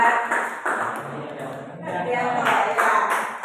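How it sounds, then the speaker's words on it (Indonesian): A classroom audience claps for a student's answer, a loose patter of hands that swells and fades while a teacher keeps talking over it. "Ya, tepuk tangan buat"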